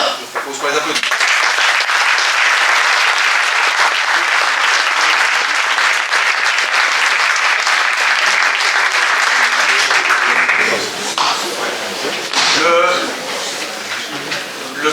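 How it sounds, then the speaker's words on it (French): Loud, full applause fills a municipal council installation meeting after members are appointed, sustained for about ten seconds before it thins out, with voices talking as it fades. "Je propose pour les applaudissements."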